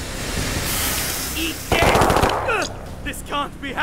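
Rapid machine-gun bursts from the tactical video game Warhammer 40k Chaos Gate, dense and loud over a battle din, with shouting voices and a sharp blast partway through.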